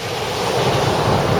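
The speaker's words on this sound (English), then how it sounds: "waves are getting really big." Big sea waves break on Gorleston beach in a continuous loud roar and wash, with wind buffeting the microphone and no voices.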